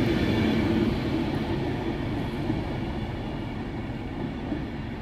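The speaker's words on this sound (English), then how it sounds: "This was actually the traditional 9-carriage pendolino." A nine-carriage Pendolino, unit 390 43, rolls through Carlisle station with a steady, dense rumble of wheels and motors that holds evenly, slowly easing a little over several seconds with no voices.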